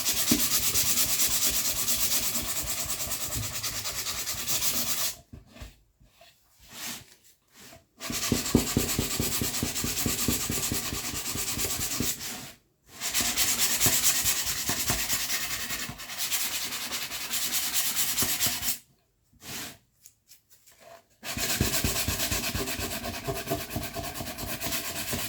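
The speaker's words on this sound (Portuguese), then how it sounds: "É uma lixada bem de leve, tá? Não precisa fazer força." Light hand sanding on a pine wood candle holder produces a steady, close, rhythmic scratchy rubbing that continues for long stretches, broken by a few brief pauses.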